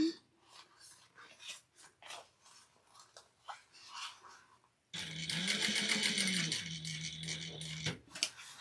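A sewing machine stitches fabric for a holiday armadillo stocking. Quiet rustling and handling come first, then the motor hums in a steady fast run for about three seconds before stopping.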